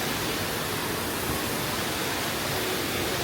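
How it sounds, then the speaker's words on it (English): Ravana Ella waterfall near Ella in Sri Lanka roars as a loud, dense, constant rush of falling water, with no break or voices over it. "We're at Ravana Falls now"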